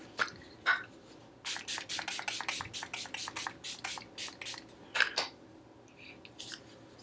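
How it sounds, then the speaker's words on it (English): A run of short, crisp hissing spritzes from a Milani setting spray bottle sprayed on a face, close up, in quick bursts with brief pauses between them. "what I'm going to do now is just spray my face down with some setting spray"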